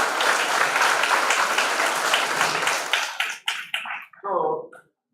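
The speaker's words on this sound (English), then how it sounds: "A big round of applause for all" An audience at a university project competition valedictory event claps in a dense, steady burst of applause that thins into scattered claps and fades out near the end.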